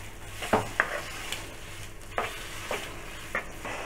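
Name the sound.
stirring sweet potato burfi mixture in a pan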